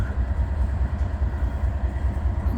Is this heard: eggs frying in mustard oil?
no